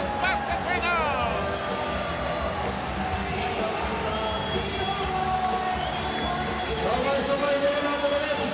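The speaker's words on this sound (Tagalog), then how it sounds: "And look at this crowd celebrate." Loud basketball arena crowd in the Philippines roars and cheers continuously after a big basket, with shouting voices and whistles layered through the sustained din.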